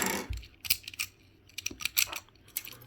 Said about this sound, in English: Grab our trusty scissors that solve every problem.